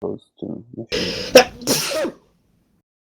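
A sharp, loud sneeze right after a brief stretch of spoken words, followed by a second shorter burst, then silence.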